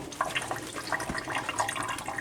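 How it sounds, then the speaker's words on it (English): Water pours and splashes continuously as liquid is drained off salted eggplant in a kitchen, a busy, steady rushing and trickling sound with no talking. "Once you get that drained out, you get all the water you can as you possibly can."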